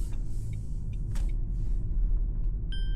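A car pulls away from a green light and accelerates, its engine making a loud, steady rumble with a faint high chime near the end.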